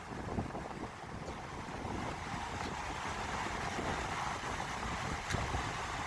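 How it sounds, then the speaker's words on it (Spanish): Rough, heavy sea surf at a beach in Arecibo, Puerto Rico, makes a steady, broad wash of crashing waves mixed with gusty wind buffeting the microphone, continuous and without voices. "Miren cómo está ese mar."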